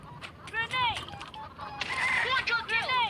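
Chickens in the shooter game Bullet Angel: Xshot Mission squawk and cluck in quick, rising-and-falling calls, several overlapping clucks coming in clusters over faint game background noise.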